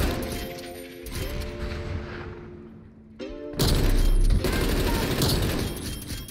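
Gunfire from the video game Black Ops Cold War comes in loud bursts with booming impacts and mechanical clicks, a quieter stretch in the middle before a heavy, sustained barrage.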